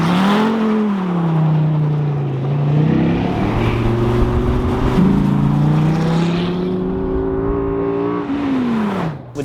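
A 2013 SRT Viper GTS V10 at full throttle on a race track, its engine note climbing loudly through the revs, dropping with a gear change and surging again before easing off at the end.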